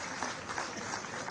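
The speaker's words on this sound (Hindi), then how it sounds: "तालियां जोरदार जरा आप सबकी तरफ से हो" Loud, continuous applause from an audience at a government launch ceremony for a state environment plan, a thick wash of many hands clapping at once with no break.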